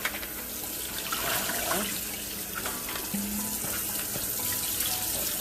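Tap water runs steadily into a kitchen sink while shrimp and fish are rinsed after cleaning in lime water, a continuous close splashing rush with small shifts as the food is moved under the stream.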